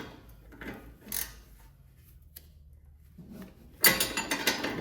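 An 18mm wrench and hex tool loosen a coilover part on a Dodge Charger, giving sparse, quiet metallic clicks and scrapes, then a louder burst of rattling, ratcheting noise near the end.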